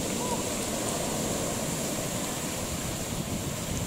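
Ocean surf rolls onto a sandy beach on the Portugal coast, a loud continuous wash of breaking water with wind noise buffeting the microphone throughout.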